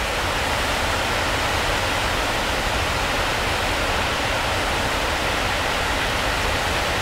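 Water pours steadily over a partly frozen dam on the Raquette River along River Road. It makes a loud, unbroken rushing roar that fills the whole stretch with no other sounds.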